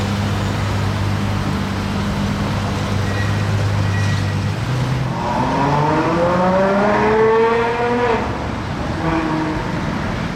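A Porsche Cayenne Turbo GT passes with its engine and exhaust, a steady low drone that swells into rising revs and a loud, rasping pass before easing off.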